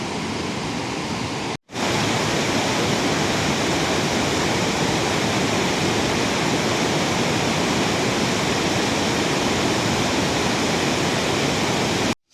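Steady, loud roar of water rushing through a dam on the Mandakini river in the Himalayan hills, a continuous broadband torrent that drops out briefly near the start, with no voices.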